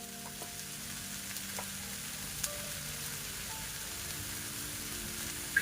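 Instant noodles are stir-fried in a pan for a home lunch, with a steady soft sizzle and hiss of frying and a few light clinks of stirring under a faint background hum.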